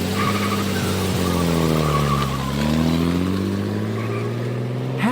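A bus pulls away with a loud, steady engine roar whose pitch dips and rises again as it gathers speed, holding strong and close for the whole stretch with no voices.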